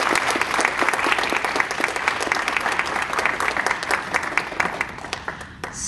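Dense, sustained applause from a large crowd at a university writing awards ceremony, steady and loud throughout, with many overlapping claps and no talking.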